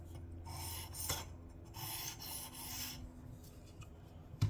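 A knife edge is being sharpened to remove a burr, with close, rasping strokes of steel across an abrasive in a few long, even passes separated by short pauses.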